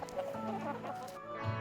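Chickens cluck close by in a poultry farm holding about 9,000 birds, a steady overlapping chorus of short throaty calls with no talk.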